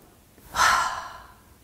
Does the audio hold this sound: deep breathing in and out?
yes